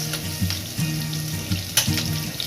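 Garlic sautés in a pan for pancit guisado made with spaghetti, a close, steady hiss of frying with a low droning hum and a few soft clinks of stirring.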